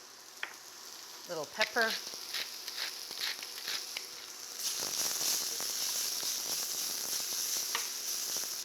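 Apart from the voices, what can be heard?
shallots sizzling in a pan over moderate heat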